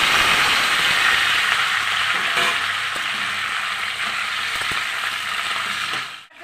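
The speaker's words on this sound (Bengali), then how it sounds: "তেলটা গরম হয়ে গেছে, আমি দিয়ে দিচ্ছি 5 ফোড়ন। এবার দিয়ে দিচ্ছি এক এক করে সব সবজিগুলো।" Vegetables and five-spice seeds frying in hot oil in a pan, a loud, steady hiss and crackle close by that fades sharply at the end, with occasional clinks.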